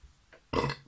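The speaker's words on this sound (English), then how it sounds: "Pardon me, it makes you burp." A man burps after drinking a canned maple nut stout from Overtone Brewing, a short, close, throaty belch following a softer catch of breath, otherwise quiet with no talking.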